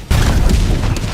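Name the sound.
submachine gun firing in video game Helldivers 2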